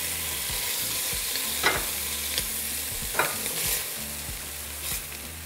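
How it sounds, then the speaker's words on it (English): Beef seared in lard in a pan gives a continuous close crackling sizzle, with a few louder scrapes and taps from a utensil at intervals; no talking. "we're going to flip our meat over and allow that side to sear for another 3 minutes"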